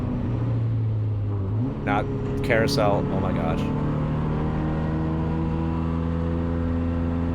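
A race car engine, likely a 1990 Miata with a K-swap, drones steadily on a track near the corkscrew, with a sustained engine tone running throughout while people talk excitedly over it.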